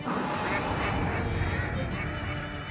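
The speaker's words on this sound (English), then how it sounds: "Blow your haunted duck call." A haunted duck call is blown in the video game Shadows Over Loathing, producing a loud, continuous nasal quacking honk that holds steady for a couple of seconds.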